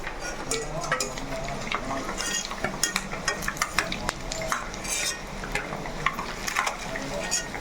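Eggs sizzle and crackle in a frying pan on a home stove, with a spatula scraping and stirring against the pan throughout, steady frying hiss under occasional clinks of metal.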